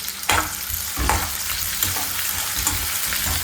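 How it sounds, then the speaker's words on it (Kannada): Chopped onion goes into a hot mustard seed and curry leaf tempering for North Karnataka style stuffed brinjal, giving a loud continuous sizzle with clattering stirs and spatula scrapes, close and without speech. "ಈರುಳ್ಳಿ ಚಾಪ್ ಮಾಡಿ ಇಟ್ಕೊಂಡಿದ್ನಲ್ಲ ಅದನ್ನು ಒಗ್ಗರಣೆಗೆ ಆ್ಯಡ್ ಮಾಡ್ತಾ ಇದ್ದೀನಿ"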